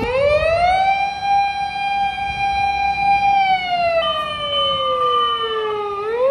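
A toy fire truck's electronic siren wails in a steady rising and falling tone, loud and close, with a slightly tinny quality.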